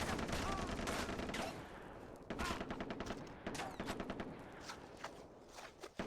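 Rapid bursts of automatic gunfire from the first-person shooter video game Far Cry 3, with dense, loud, overlapping shots in continuous volleys and a brief lull near the middle.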